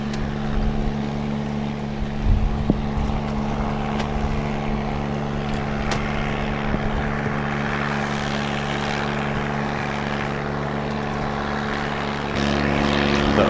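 A boat taxi motor drones on the Andaman Sea in a steady, humming engine tone, holding close and constant with occasional knocks and a swell in loudness near the end.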